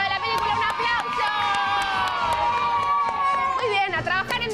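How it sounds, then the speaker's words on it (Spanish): Audience at a children's film project event in Buenos Aires cheering and shouting, with high children's voices whooping over crowd noise in a loud, continuous burst. "¡Un aplauso!"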